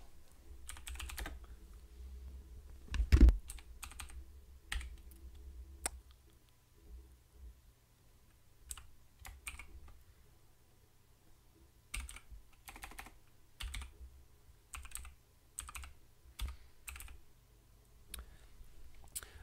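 A command is typed out on a computer keyboard in a Linux terminal during a RetroPie setup, giving quiet, close key clicks in short irregular bursts separated by pauses, with one louder thump early on.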